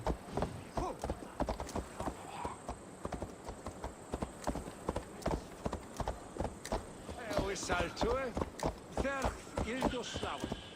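Horse hooves clip-clop in a steady galloping rhythm in Assassin's Creed Valhalla, continuous and fairly close, with a whinny-like call and game voices speaking over the hoofbeats toward the end.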